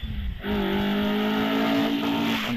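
An Alfa Romeo GT Junior 2-litre race car on a hillclimb run at Prescott comes through with a strong, steady engine note held at high revs after a brief rough start, loud and close.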